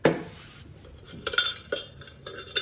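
Metal Biltema camping cookware, a one-litre kettle and pots, clinks and knocks in a few short, bright hits, close by and fairly quiet, with soft handling rustle between them.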